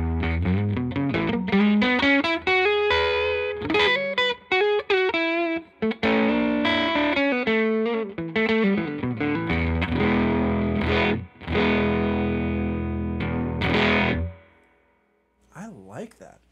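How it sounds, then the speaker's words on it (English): Electric guitar played through a Bunnel Heavy Metal Violin effects pedal, giving loud, sustained, distorted notes and melodic runs with swelling attacks, continuous for most of the stretch before fading to near silence at the end. "Let's try the heavy metal violin pedal on this guitar."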